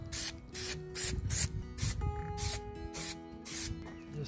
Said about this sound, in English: So I'm using trim fix adhesive, temperature stable to 120 degrees Celsius, so it's not going to just melt in the heat.